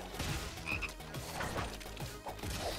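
Frogs croaking in the video game Final Fantasy VII Rebirth, repeated low throaty croaks over dense game music and effects, steady and fairly loud throughout.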